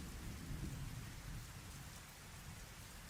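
Steady rain with low rolling thunder in a game scene, a continuous dense hiss with a deep rumble swelling early on and fading, no voices.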